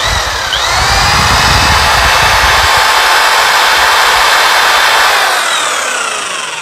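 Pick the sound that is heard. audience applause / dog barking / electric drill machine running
electric drill machine running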